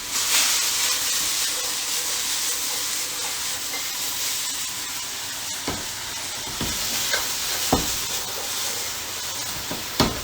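Vegetables stir-frying in a hot wok with garlic: a loud, continuous sizzle and hiss, broken by sharp clacks and scrapes of a spatula tossing the food.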